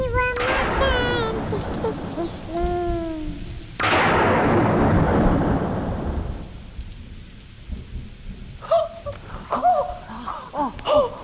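A thunderstorm with rain from a Hindi TV comedy: a sharp thunder crack bursts in and rolls off over a steady hiss of rain, with voices and brief tonal sounds before and after the storm noise.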